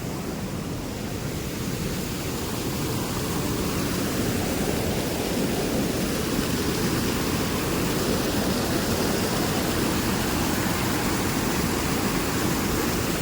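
Loud, steady roar of a flooded river rushing under a bridge in heavy rain fills the whole clip, a broad continuous wash with no breaks and no voices.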